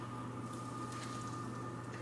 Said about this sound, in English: you can probably already hear it starting to sizzle